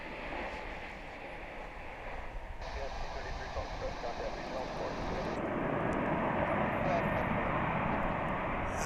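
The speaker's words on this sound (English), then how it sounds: "That's a Dreamliner touching down after 14 hours and 39 minutes on its Trans-Pacific journey." A Qantas Boeing 787 Dreamliner touching down at DFW airport after a trans-Pacific flight from Sydney, a steady broadband engine roar heard from a distance that swells slightly toward the end, with a voice talking over it.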